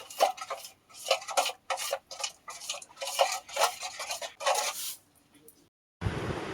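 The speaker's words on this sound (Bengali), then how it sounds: "আবারও সুজিটা আমি ভালো করে নেড়ে নেব।" Semolina being stirred in a pan with a metal utensil for homemade biscuits: a series of scraping, clinking strokes in short bursts, fairly close, followed by a brief pause and a burst of broadband noise at the end.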